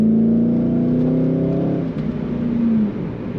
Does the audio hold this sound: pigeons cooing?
no